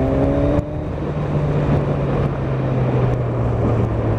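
A 2016 Kawasaki Z1000SX motorcycle pulls from fourth gear at low revs, its engine a steady droning hum up close with a brief shift in tone early on, then sustained even power without any voices.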